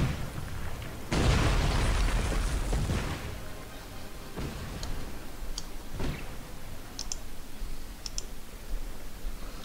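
Cannon fire in the real-time strategy game Cossacks 3: one loud, broad boom lasting about two seconds, then softer thuds and sharp metallic clicks scattered through the battle, with no talk.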